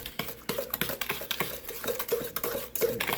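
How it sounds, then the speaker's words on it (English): A spoon or mixer working a butter mixture for blueberry coffee cake in a bowl, quiet irregular clicks and scrapes repeating steadily at close range. "we're going to mix this together, folks"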